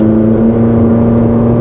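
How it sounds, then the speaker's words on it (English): A Ferrari 458 Speciale engine makes a loud, steady mechanical drone up close. The pitch stays almost level and no one talks over it. "I'm probably going to have to shout a bit more in the Ferrari because it's so loud"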